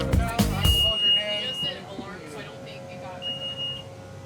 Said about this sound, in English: We're getting an alarm, so we gotta check that.